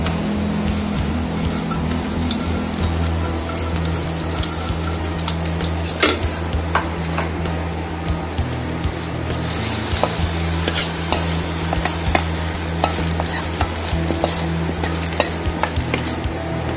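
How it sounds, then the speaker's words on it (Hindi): Steady, loud sizzling of tempering spices frying in hot oil for handvo, with occasional clinks and scraping from stirring in the pan. "अब हम एक बड़ा साइज का हांडवा बनाएंगे तो इसमें हम थोड़ा सा तड़का डाल देते हैं।"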